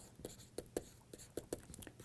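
Chalk or pen writing out equations during a molecular orbital chemistry lecture, a run of short, sharp tapping strokes at irregular intervals, close and moderately loud with no speech over it.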